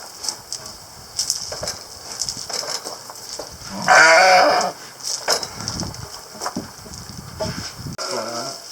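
A sheep bleats loudly once in a long, wavering cry, set among quieter scraping and handling noises.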